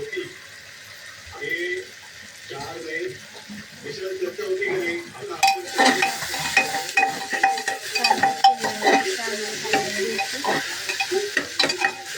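Phodni tempering fries and is stirred in a pan for pav bhaji prep, a steady sizzle with scraping stir strokes swelling louder midway, while a person talks intermittently over it.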